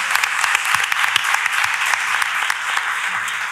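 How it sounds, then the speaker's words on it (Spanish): A crowd at a youth brotherhood fair in Málaga breaks into sustained applause, dense steady clapping heard close throughout without anyone speaking. "Un aplauso para ellos."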